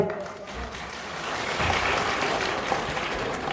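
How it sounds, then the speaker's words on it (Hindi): A school audience at a results declaration day applauds spelling competition winners, a steady wash of many hands clapping that swells slightly and holds throughout. "तो इनके लिए एक बार जोरदार तालियां"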